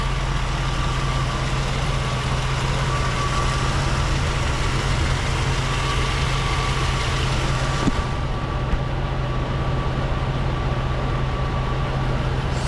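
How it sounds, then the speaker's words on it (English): A 1985 Mercedes-Benz 500SEC with the Euro-spec M117 V8 starting and then idling, a steady close-up low rumble with a faint thin whine, with a brief shift partway through as the sound settles. "It's that familiar starter noise of a Euro M117."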